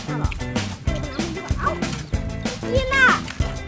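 Small puppies being fed, barking in sharp repeated yips and little whimpers close by, mixed with people talking over them.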